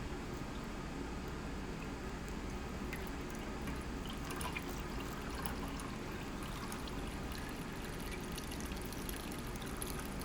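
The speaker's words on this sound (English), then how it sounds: "We'll just pour that into the strainer." Rendered beef fat for tallow, with bits of cooked ground beef, poured into a strainer: a steady close liquid stream and trickle running continuously for about ten seconds, with no talk.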